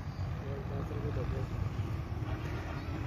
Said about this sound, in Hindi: गाड़ियां जा रही हैं।